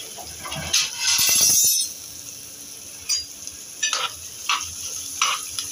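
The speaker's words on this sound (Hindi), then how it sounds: "देखिए फूट रही है राई लेकिन उड़ नहीं रही है" Mustard seeds and cumin crackling in hot oil in a pan, a burst of loud sizzle followed by scattered sharp pops and spits against a quiet background.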